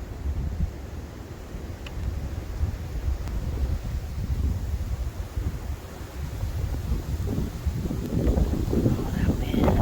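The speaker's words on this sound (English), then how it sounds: "Oh, that wind." Strong gusting wind of Winter Storm Elliott on a farmstead, a steady heavy roar with low rumbling buffets against the microphone, continuous and close, building slightly toward the end.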